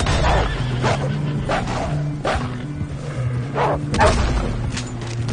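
A dog barks and snarls several times amid Red Dead Redemption 2 game sounds and music, with sharp yips scattered across the few seconds.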